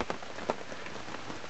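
Heavy rain pours steadily onto a winter camp shelter, a dense constant patter with occasional louder drips and no voices.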